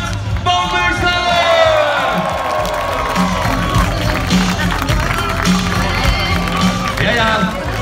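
Outdoor crowd cheering, whooping and shouting around a flatbed float at a local football club celebration, a loud continuous roar with a festive din underneath and voices rising over it.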